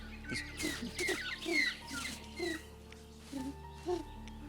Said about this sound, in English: you start hearing a cacophony of flustered bird noises